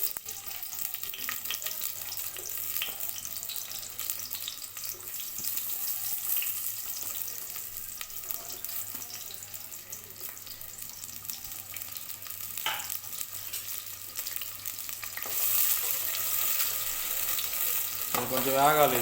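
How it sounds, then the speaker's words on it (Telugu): Onion fries in a small glass of oil over a medium flame, producing a quiet, steady crackling sizzle that swells louder near the end, with occasional faint clinks and no talk. "ఇది కొంచెం లైట్గా వేగిన దాకా వేగించుకుందాం."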